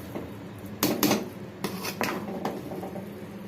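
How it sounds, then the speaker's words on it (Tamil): A spoon scrapes and clanks against a pot of chicken biryani finished with ghee, making a few loud bursts of metallic scraping around one second and again near two seconds, with quieter scrapes between. "கிண்டிக்கலாம்."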